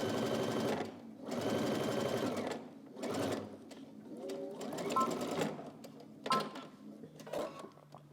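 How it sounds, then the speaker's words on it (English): A sewing machine runs in several bursts, stitching straight across a waistband seam on a Simplicity 9931 tank top, with brief pauses between runs and light handling noise, close and fairly steady. "now on the other side, we're just going to stitch all the way across"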